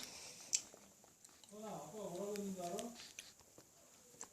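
Jelly candy is chewed close to the mic in a soft, wet burst of squishy mastication lasting about a second and a half, with a faint click before it and quiet room tone around.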